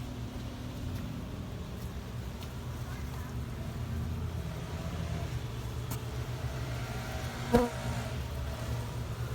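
A low, steady hum of many honey bees buzzing fills the air close by during a bee removal, with a faint knock partway through.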